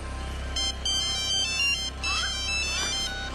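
A cell phone ringtone plays in an animated cartoon, bright electronic tones repeating over a steady low hum at moderate volume.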